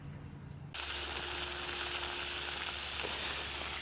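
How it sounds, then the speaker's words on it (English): Extra-fatty food sizzles loudly on a wood-fired bush stove, starting abruptly under a second of quiet and then holding a steady, dense crackling hiss close by, with no voices. "Round 2 of cooking on the bush stove"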